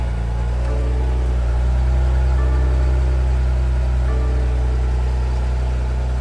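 A BMW E34 535i runs at idle after a push-button start, giving a steady, even engine hum with a constant low rumble that stays unbroken for several seconds.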